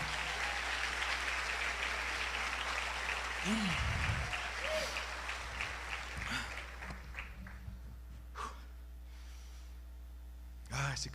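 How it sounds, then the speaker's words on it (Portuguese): A church congregation applauding during a sermon, loud dense clapping that gradually thins and fades over several seconds, with a low steady hum beneath and scattered voices and noises as it dies away. "Aplauda o Senhor se você crê nisso."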